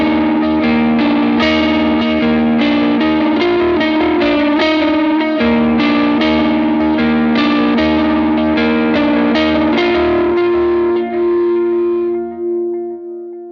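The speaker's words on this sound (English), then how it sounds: "your normal sized reverb and a dotted 8th delay" An electric guitar played through plate reverb and a dotted-eighth delay rings out in sustained, layered chords, loud and continuous, with echoing repeats trailing off into a fading tail.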